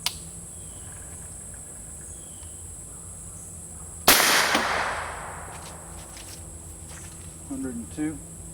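A single suppressed gunshot through a homemade Reflex suppressor fitted with five titanium baffles, recorded about a meter away at right angles to the muzzle; one sharp crack with a short decaying tail, followed by faint speech.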